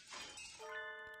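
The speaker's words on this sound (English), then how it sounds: "Some glass objects splinter with a momental crash behind us as we make for the exit." Glass objects shatter with a single sharp crash followed by a ringing, tinkling decay, a sound effect from the video game Hatoful Boyfriend: Holiday Star.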